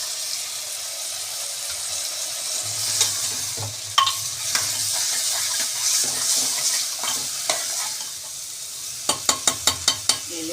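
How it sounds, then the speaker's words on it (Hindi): Half a glass of water goes into a hot pan on a gas stove, giving a broad steady hiss and sizzle with scattered clinks and a quick run of sharp taps near the end, close and moderately loud without talk. "अब मैं डाल देती हूँ हाफ ग्लास पानी।"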